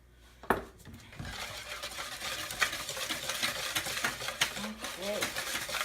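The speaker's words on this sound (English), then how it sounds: "as you put them in, you just whisk it. Whisk it, whisk it, whisk it" A whisk stirs pancake batter of flour and liquid in a bowl, giving a rapid run of close scraping and tapping strokes against the bowl's sides, with a voice speaking now and then over the stirring.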